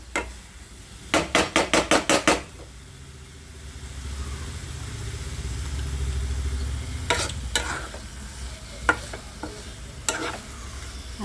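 Grated fresh coconut and jaggery mixture roasting and being stirred in a pan, with a quick burst of about seven rhythmic scraping strokes early on, then scattered single scrapes over a low steady hum, no voices.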